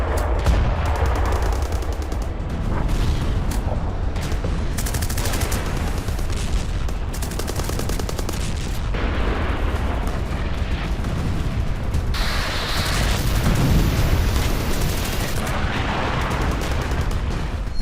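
Dense, loud gunfire and explosions from fighting in Nagorno-Karabakh between Azerbaijan and Armenia, with rapid shots and booming blasts crowding together without a break.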